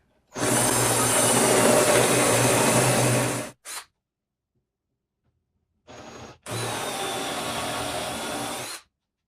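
A power drill bores holes into a metal dust collector housing, running in two long loud bursts with a short blip between and a brief start-up before the second run.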